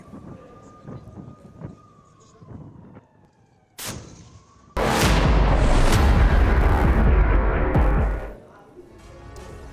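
Tank and artillery fire in Israeli border attacks: a few scattered thuds and a sharp crack give way to a massive roaring blast that rumbles heavily for about three seconds before fading into distant noise.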